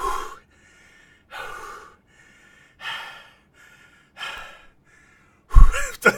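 Heavy, laboured breathing of a man out of breath after lifting a heavy cake, four long panting exhales spaced about a second apart, close and alone, ending in a sharper gasp.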